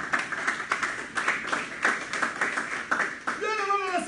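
A church congregation claps in a steady rhythm of sharp, close hand claps for about three seconds, then a whistle or high voice cuts in near the end.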